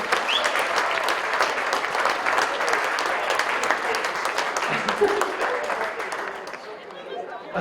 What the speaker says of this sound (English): Another round of applause for all our teams that participated today